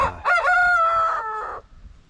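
A Quombie rooster, a Tasmanian heritage chicken breed, lets out one full, close cock-a-doodle-doo that rises, holds and trails off, with faint clucking or farmyard sound around it.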